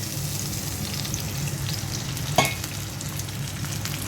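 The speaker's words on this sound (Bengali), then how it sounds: "টমেটোটা দিয়ে দিচ্ছি, পেঁয়াজের সাথে ভেজে নেব।" Tomato fries with onion in a pan, a quiet steady sizzle close by with one brief sharp clink of a utensil midway.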